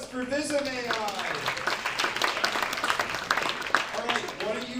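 Audience at a tech demo night applauding, a dense patter of many hands clapping at moderate distance, with voices speaking over the start and end.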